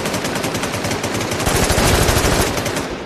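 Loud, rapid machine-gun bursts in the survival shooter Warz, dense repeated shots at close range that intensify midway and run unbroken for a few seconds.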